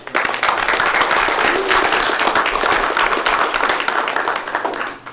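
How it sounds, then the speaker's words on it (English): A small audience gives steady, close applause at a town council meeting, crisp hand claps running for about five seconds before tapering off at the end. "That's a great accomplishment. So, a round of applause."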